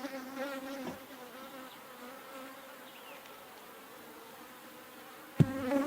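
Honey bees drone steadily at close range over a hive frame where they are building wax comb, a faint continuous buzz with a sharp knock near the end.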